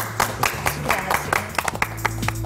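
Applause from an audience at a televised talk on humanizing cancer care services, irregular claps spread through the clip over a steady background with faint tonal sound underneath.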